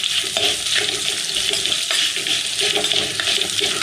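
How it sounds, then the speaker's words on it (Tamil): Onions being sautéed in a pan with curry leaves, a loud continuous close sizzle with occasional sharp stirring clicks, no voices. "வெங்காயத்தை போட்டு லைட்டாக வதக்கிடும்"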